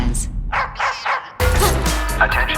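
A dog barks in a few quick yips, then a louder burst of barking and busy noise follows, close and fairly loud.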